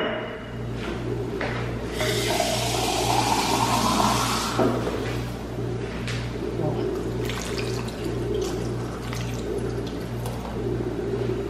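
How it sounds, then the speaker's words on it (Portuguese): Water poured from a tap into a pan of cabbage rolls in sauce, a bright rushing splash lasting a few seconds before fading into a quieter kitchen background with a steady low hum. "Acrescento mais um pouquinho de água para dar uma boa cozida."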